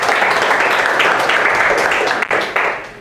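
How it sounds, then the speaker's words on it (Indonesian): A classroom audience applauds a student group, a loud, close, dense burst of clapping that holds steady for a few seconds with a brief dip near the end. "Tepuk tangan dulu untuk kelompok 1 ya."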